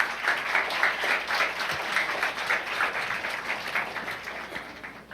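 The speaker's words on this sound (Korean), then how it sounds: "먼저 저 원주에서 오시는 우리 형제님 박수 부탁합니다" A church audience applauds as a guest brother from Wonju is welcomed to give a special talk, steady hall-filling clapping lasting throughout at a moderate distance.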